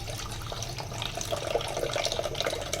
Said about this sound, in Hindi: इसके अंदर हम डालेंगे इमली का पल्प।